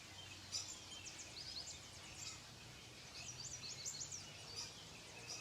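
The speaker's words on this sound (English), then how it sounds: "So many birds and the sound of water from a neighbor's waterfall" Birds sing and chirp faintly outdoors over a steady hiss of water falling from a neighbor's waterfall, with no one speaking.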